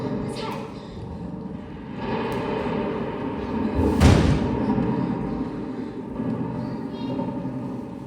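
A thunder crack sound effect in a school stage play of The Lion, the Witch and the Wardrobe, a single heavy boom with a rumbling tail in a reverberant hall, framed by lower rumbles and faint background voices.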